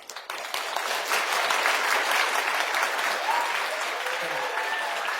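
An audience's warm applause welcoming a speaker at a longevity economy talk, starting abruptly and swelling into steady, full clapping that holds to the end.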